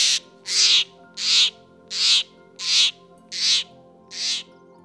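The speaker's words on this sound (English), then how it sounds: "The jays screamed," Harsh screams of jays in a read-aloud bedtime story, seven loud, raspy bursts at an even pace, each about half a second long, with short gaps between them and no talk.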